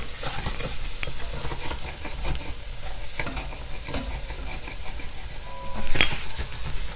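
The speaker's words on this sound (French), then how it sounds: "on ajoute les oignons. On va laisser revenir un peu avec les sucs de cuisson." Onions sautéing in meat cooking juices for a Flemish carbonnade, a steady close sizzle with scattered stirring scrapes and one sharp clink near the end, no voices.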